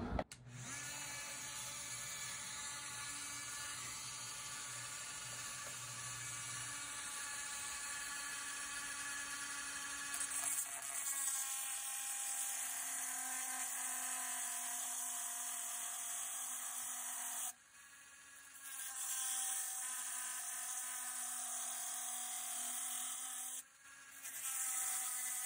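A Dremel rotary tool with a metal EZ Lock cutting disc, running at about 15,000 RPM, cuts through an oyster fossil in a continuous high whine that holds for over twenty seconds, dipping briefly twice as the load changes.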